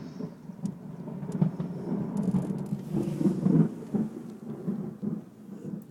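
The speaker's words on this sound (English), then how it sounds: "And thunder." Thunder rumbles low and rolling through a storm with rain, moderately loud and somewhat distant, swelling and fading over several seconds without speech.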